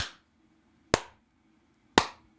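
Three sharp hand claps ring out alone, evenly spaced about a second apart, each crisp and close with a quick decay into silence.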